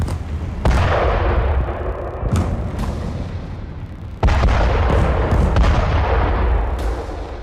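Heavy bombardment explosions in Khan Younis, South Gaza, several deep booming blasts at irregular intervals with rumbling echoes between them, loud and distant-sounding, no talk.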